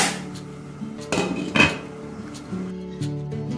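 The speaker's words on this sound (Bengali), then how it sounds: "স্ট্যান্ডিং টাইম দেওয়ার পরে আমি এবার ঢাকনাটা খুললাম।" A metal lid comes off a pot of mutton pulao with a few sharp clanks and a ringing scrape, close and brief, with no talking.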